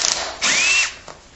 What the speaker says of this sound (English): you're going to need to drill holes in the side of the frame